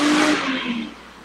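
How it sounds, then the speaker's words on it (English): A moped passing by outside, a loud motor whine that sweeps past close by and fades away over about a second. "was that Chris Martin on his moped?"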